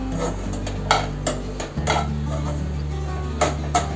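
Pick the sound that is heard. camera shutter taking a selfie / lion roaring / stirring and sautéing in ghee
stirring and sautéing in ghee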